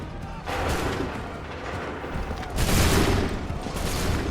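A musket volley rings out in the Assassin's Creed 3 video game, loud, booming massed gunfire in two bursts with rolling echoes, mixed with faint shouted commands.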